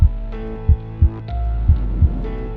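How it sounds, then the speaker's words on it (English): A heartbeat sound effect thumps in loud, close double-pulse beats, a slow steady rhythm over a low hum. "I could see the heart beating within their chest."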